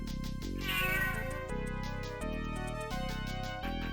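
A cat meows in the Sega CD game Snatcher, a stretched, wavering cry over loud, steady game music, with no talking.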